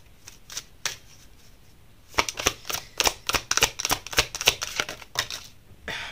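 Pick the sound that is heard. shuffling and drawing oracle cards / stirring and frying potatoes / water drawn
shuffling and drawing oracle cards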